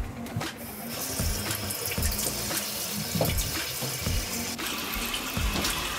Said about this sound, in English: So I'm just going to wash off my face.